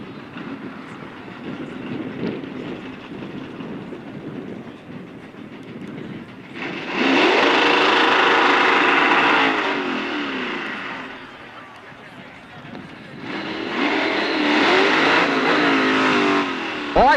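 At a power wheelstanding championship a car does a dry hop: two loud, sustained engine roars surge up close, separated by a quieter idle, while commentary voices run underneath.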